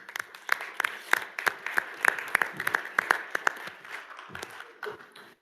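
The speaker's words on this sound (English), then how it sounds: "Let's give them a round of applause as they come in." Sparse audience applause at a board of directors meeting as class members enter, distinct individual claps from a small group, fading out toward the end.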